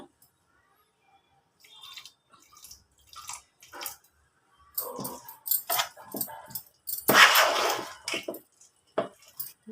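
Water is poured from a cup into thick maida flour batter for Mysore bajji, giving faint scattered drips and wet squishing bursts close by, separated by quiet gaps.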